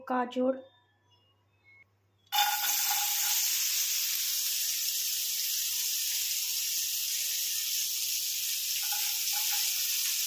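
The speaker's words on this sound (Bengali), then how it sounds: "এবারে ভেজে ভেজে নেবো সবজিগুলো দিয়ে দেবো" Vegetables fry in a pan with a steady, loud sizzle that starts abruptly after a brief opening voice and continues unbroken to the end.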